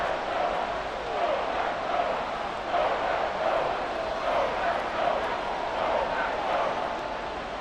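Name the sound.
stadium crowd noise in Madden 24 video game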